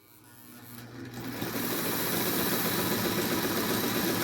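A vintage International Super Deluxe sewing machine starts up and runs steadily, its motor whirring louder over the first second and then settling into a close, even mechanical hum with no talking.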